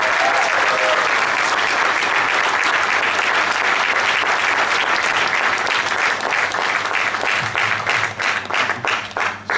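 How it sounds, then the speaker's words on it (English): A large audience applauds loudly and steadily, then the clapping thins toward the end into scattered individual claps. "let's give applause to Pastor Karl"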